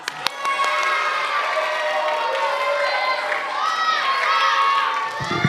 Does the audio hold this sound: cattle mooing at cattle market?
no